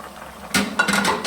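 Hot ghee poured into carrot halwa (gajar ka halwa): a quiet stretch, then a sudden loud sizzling burst, followed by a few metal spoon clinks and stirring scrapes against the pan, close up.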